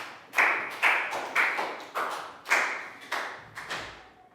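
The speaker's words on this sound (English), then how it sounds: "Big round of applause for Bangpon" Short bursts of hand clapping from students in a Year 3 English class, about eight sharp rhythmic claps spaced roughly half a second apart, close and fairly crisp with no voices.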